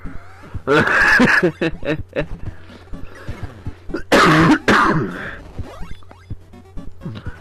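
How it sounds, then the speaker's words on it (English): A person coughs hard in two heavy bursts with throat-clearing and small rasping coughs scattered between, close to the microphone over a low steady hum. "I did say my cough was somewhat better. I didn't say it was gone."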